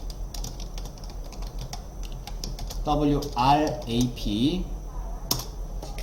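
Rapid keystrokes clatter on a computer keyboard while someone speaks over them, entering code in the middle of the stretch; the typing stays fairly quiet and close throughout.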